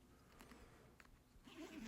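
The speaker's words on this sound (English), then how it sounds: "Zippers, make sure you do them all the way around the back there" The zippers of a rental fiddle case are pulled open in short, faint, scratchy bursts, close by and quiet with no talking.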